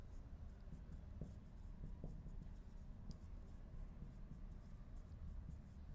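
Marker or chalk writing on a board during an accounting lesson: faint scratchy strokes over a steady low room hum, with no clear speech.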